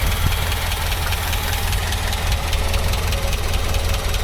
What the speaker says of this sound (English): A little bit of a blow on the downpipe, I think, so I can hear that puffing